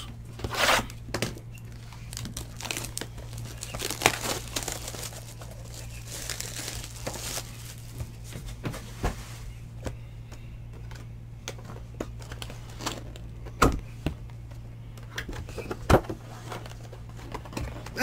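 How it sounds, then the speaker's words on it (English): A box of 2014/15 Panini Prestige Premium basketball card packs being opened: close crinkling, tearing and tapping of cardboard and wrappers in irregular bursts over a steady low hum, with brief quiet speech. "first let me open up the box and number the packs"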